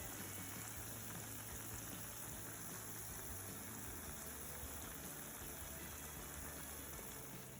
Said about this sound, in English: I'll be quiet so can you hear the sizzle